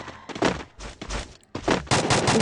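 Rapid bursts of gunfire from a shooter video game, loud and close, coming in several dense volleys separated by short gaps, with no talk over them.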